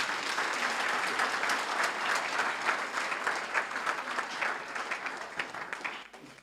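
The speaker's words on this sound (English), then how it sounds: "can we give our principal another hand of applause" Steady applause from a school audience at a college academic opening, honoring the principal after her speech, loud and sustained for about six seconds before tapering off at the end.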